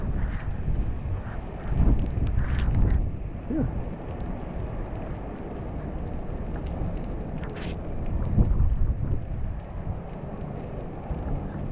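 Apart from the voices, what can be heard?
typhoon wind on a street in Macau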